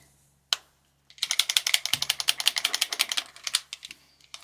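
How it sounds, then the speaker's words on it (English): A rapid rattling clatter of a drawing marker being shaken, like a spray can ball knocking inside, preceded by a single sharp click. "I love the sound that these pens make. It's like the sound spray cans make when you shake them"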